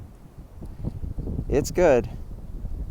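Strong wind buffets the microphone on the Kelly Knob mountain summit along the Appalachian Trail, a steady low rumbling roar that swells and fades while someone speaks briefly over it.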